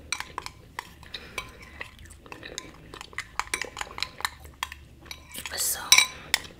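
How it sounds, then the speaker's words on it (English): A spoon stirring a turmeric face mask in a bowl, with rapid close clinks and scrapes against the dish in an irregular rhythm, a louder flurry near the end. "I didn't even bring a spoon to mix it."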